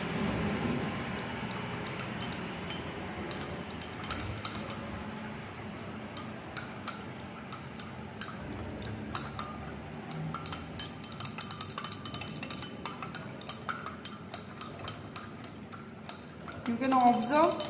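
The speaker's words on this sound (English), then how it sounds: "At the same time, we have to continuously stir the reaction mixture." A reaction mixture being stirred in a glass beaker as ammonium hydroxide is added, with light repeated clinks and taps of glassware that come irregularly, fairly faint, over quiet room background.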